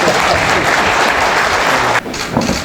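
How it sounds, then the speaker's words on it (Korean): Dense, loud applause from a Korean talk-concert audience, steady for about two seconds before breaking off abruptly, then a few scattered claps trailing on. "박수 한번 주세요."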